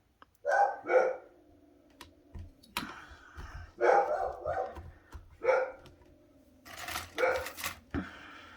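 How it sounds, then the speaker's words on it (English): A dog barks in several separate bursts, fairly close, with short pauses between them and faint background noise. "She is barking."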